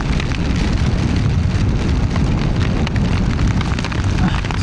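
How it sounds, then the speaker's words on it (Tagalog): Rain falls steadily in a dense, crackling hiss that stays loud and even throughout, with no talking. "Ulan na naman."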